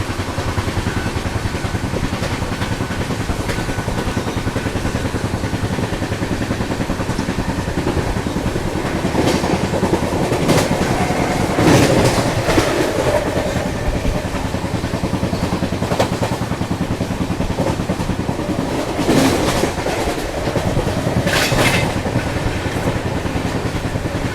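Kashi Vishwanath Express passenger train running at speed on the Delhi–Lucknow line, a steady loud rumble of wheels and carriages with rhythmic clatter and occasional sharper rattles throughout.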